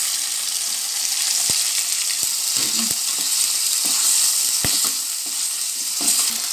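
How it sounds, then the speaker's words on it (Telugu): Onions and garlic paste fry in oil for a chicken curry, giving a steady close sizzle with occasional sharp spoon taps against the pan. "లైట్గా పచ్చి వాసన పోయేంత వరకు కొంచెం వేగనిచ్చి టమాటా వేసుకోవాలి."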